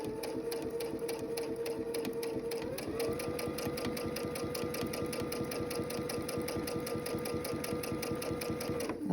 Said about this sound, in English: So I'm gonna start sewing